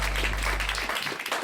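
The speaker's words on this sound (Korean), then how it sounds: "주님께 영광의 박수를 돌리기 원합니다" Congregation applauding together during a church worship service, a dense, steady wash of many hands clapping at fairly close range that continues throughout without any talk.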